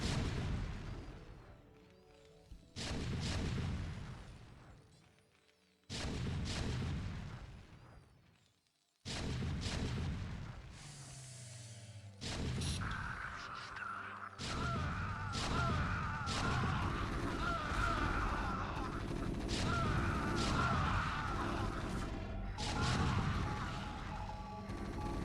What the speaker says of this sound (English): Siege tank versus siege tank here.